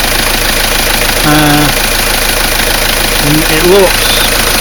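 A Citroen 2.0 HDi diesel engine idling after thermostat housing work, a loud, steady close-up rumble with a clattery edge running throughout, while someone talks briefly over it.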